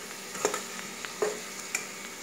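Sweet tamarind pickle cooking in a pan, a soft continuous sizzle punctuated by a few sharp clicks and scrapes of a spoon stirring, close and fairly quiet, with no talking.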